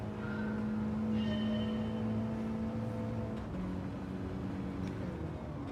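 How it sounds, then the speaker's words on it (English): Mini Cooper S engine in a Gran Turismo racing game, a steady droning hum with tones that shift as the revs change, moderately loud and continuous, without speech or music. "No music this time, just the sound of the car"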